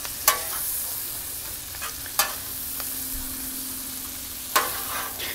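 Garlic cooks on a Blackstone griddle at medium heat in a steady, even sizzle, with three sharp metallic taps from a spatula spread across the stretch and no voices.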